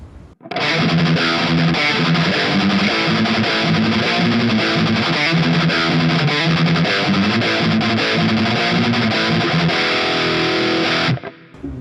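Loud, chugging distorted electric guitar riff with a thick, punchy tone, playing steady rhythmic chords without pause for about eleven seconds.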